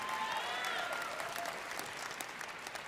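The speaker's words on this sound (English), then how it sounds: "Big round of applause for Haley Colbert." A pageant audience at the Miss Teen USA preliminary competition in Reno applauds for Haley Colbert. Dense, sustained clapping fills the hall and tapers only slightly, with a few faint whistles early on.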